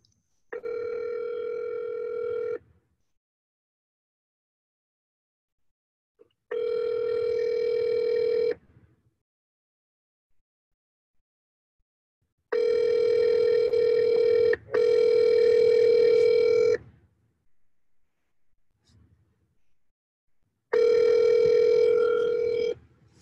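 A telephone rings on an outbound cold call to a real estate lead, four clear repeated ring bursts of about two seconds each separated by longer silent gaps, close and even in level.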